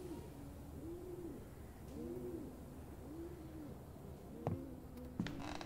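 A pigeon in a dark, atmospheric game scene coos in soft, rolling phrases about once a second, fairly faint and alone, with a few small knocks near the end.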